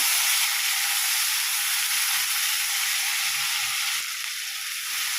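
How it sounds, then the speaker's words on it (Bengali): Chopped tomatoes hitting hot oil in a frying pan while cooking a Bengali bata fish curry, giving a steady, close sizzling hiss that holds for several seconds and eases slightly near the end. "দিয়ে দিচ্ছি এবার কুচিয়ে রাখা টমেটো। মিশিয়ে নিচ্ছি।"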